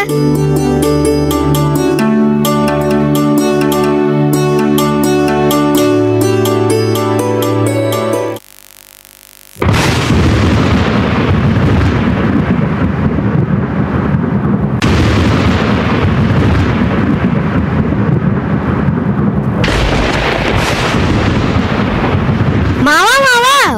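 A stretch of music cuts out, then heavy rumbling thunder rolls in and keeps booming loudly, with deep crashes through the rest.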